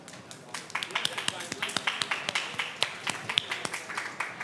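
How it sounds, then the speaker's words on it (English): Audience applause greets Formula E race podium finishers at the Jeddah E-Prix, a steady run of sharp claps with whistles and cheers mixed in, fairly close and sustained. "A huge round of applause for these legends here"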